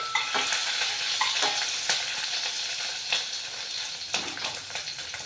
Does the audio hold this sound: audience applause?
no